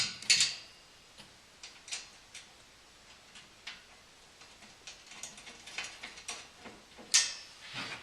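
Ratchet clicking in short irregular bursts while bolts are tightened on a Jeep JK side rack, close up and fairly quiet, with gaps between strokes and no talking.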